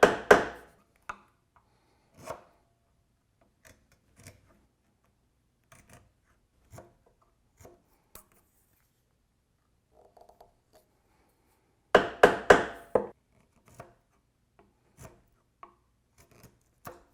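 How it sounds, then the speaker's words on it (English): A mallet drives a wood chisel to chop out dovetail waste for a stepstool: sharp, dry knocks at irregular intervals, a tight burst of several hits near the start and again later, with quiet gaps between. "now I can use my mallet and more aggressively take this stuff out of there"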